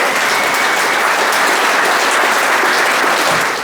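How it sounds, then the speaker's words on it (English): A conference audience gives a big round of applause, dense, loud sustained clapping filling the room throughout. "Give a big round of applause."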